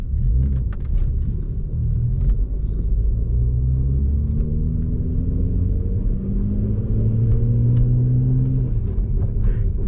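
A BMW 135i drives with a deep engine rumble from inside the car, revs rising and falling through several gear changes, loud and continuous.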